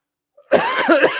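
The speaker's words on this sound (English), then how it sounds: "pardon my coughing" A single close, sharp cough bursts out after a brief silence, with a short rough follow-up.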